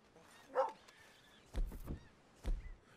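A dog barks in Red Dead Redemption: three separate short barks spaced about a second apart, fairly quiet and alone.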